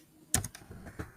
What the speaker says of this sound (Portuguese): Vamos aqui então digitar na barra de pesquisa do Google Natural